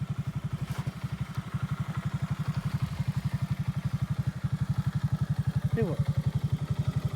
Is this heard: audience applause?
no